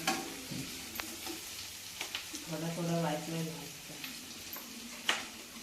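Capsicum and chili fry in a pan over a low gas flame, a soft continuous sizzle broken by occasional sharp clicks and scrapes of stirring, with people talking over it.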